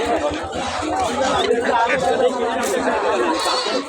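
Goats bleat repeatedly amid a busy crowd at a Tuesday goat market in Goalimandra bazaar, with many voices chattering close by under the animal calls.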